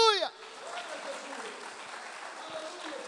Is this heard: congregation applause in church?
yes